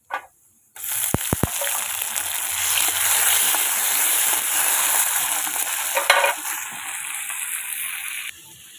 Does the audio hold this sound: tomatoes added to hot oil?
yes